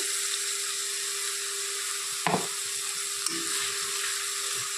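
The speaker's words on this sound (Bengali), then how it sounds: "একটু জল দিয়ে দেব মশলাটা কষানোর জন্য দিয়ে দিচ্ছি একটু সামান্য পরিমাণে জল" Spice masala fries in a pan with a splash of water, a faint, even sizzle broken by one sharp clatter midway and a softer knock after, with a steady electrical hum underneath.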